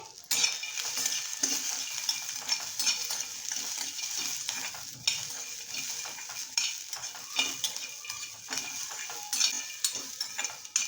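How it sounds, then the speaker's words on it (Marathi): Green chillies, garlic, ginger and peanuts dry-roasting in a pan give a steady close crackle and sizzle, broken by scraping stirs and light taps of a utensil against the metal. "मिरच्या लसूण आलं आणि शेंगदाणे व्यवस्थित मस्तपैकी भाजून घ्यायचं आहे"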